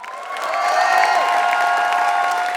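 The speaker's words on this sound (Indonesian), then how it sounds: "tepuk tangan dong" Crowd at a stand-up comedy show in Indonesia breaking into applause and cheering, a sustained wash of clapping and voices that swells and holds loudly, with a whistled or shouted tone riding over it.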